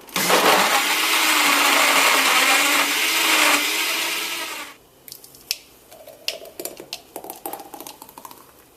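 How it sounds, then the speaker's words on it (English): A blender on high roars loudly and steadily for several seconds while mixing a smoothie, then cuts off, leaving scattered clicks and light clattering. "put the blender onto high for about 1 minute"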